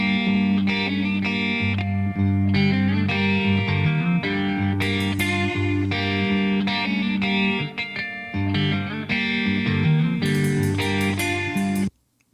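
Guitar intro to a song, with the full band playing, a dense distorted rock texture with rhythmic chord stabs and brief pauses, loud throughout before stopping abruptly at the end.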